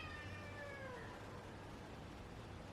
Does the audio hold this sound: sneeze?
no